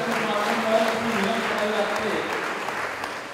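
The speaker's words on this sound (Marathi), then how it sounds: "टाळ्या वाजल्याच पाहिजे." Audience applause at a credit cooperative society's annual general meeting, steady and sustained clapping for students being announced, with a voice faintly heard over it.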